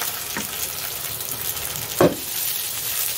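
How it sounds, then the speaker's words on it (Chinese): Ginger and shallots stir-fried in a hot wok give a steady low sizzle, with two brief louder crackling bursts where the pieces are tossed. "姜啊、红葱头啊呢啲落去爆下。 爆出姜葱的香味"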